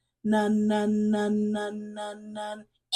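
A voice imitates an aerial lift with six even, droning hums in a steady rhythm, close and clear, then silence.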